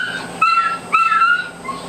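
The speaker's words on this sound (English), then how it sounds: "Puppy crying. It's a dog." A puppy's high, thin whimpering cries, two rising whines close together and a softer trailing one, near and clear with no talk.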